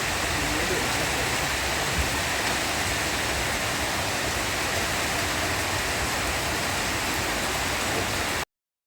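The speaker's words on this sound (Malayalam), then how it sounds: "പോകുന്ന വഴി വന്നപ്പോഴത്തേനും നല്ല മഴയാട്ടോ" Heavy nighttime rain in a hilly area near a bus stand, a dense continuous hiss of downpour on surfaces filling the whole stretch evenly and loudly, then cutting off abruptly.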